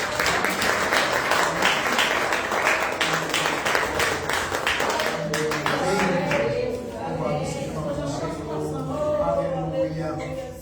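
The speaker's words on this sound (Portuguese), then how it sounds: "Vamos receber o nosso pastor com as palmas bem alegres para Jesus." A church congregation stands and claps to welcome the pastor at a Wednesday evening prayer-circle service; a few seconds of lively rhythmic clapping fade as a voice begins speaking over it.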